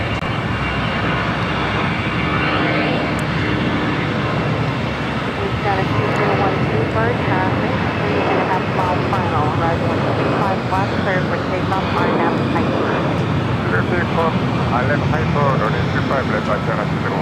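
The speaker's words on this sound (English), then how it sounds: "Next takeoff on 25 left." Jet airliner rolling for takeoff on runway 25 Left at LAX, a steady, broad engine roar that holds loud and even throughout with no break.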